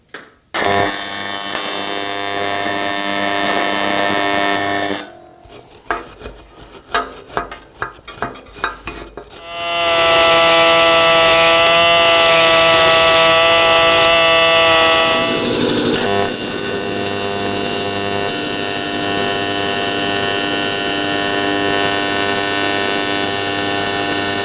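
Welding repair on small engine crankcases fresh out of the oven, with a steady buzzing arc running for long stretches, broken partway by sharp irregular crackles and pops, then resuming as a loud continuous hiss.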